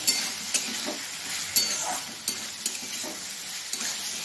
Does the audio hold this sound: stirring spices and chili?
yes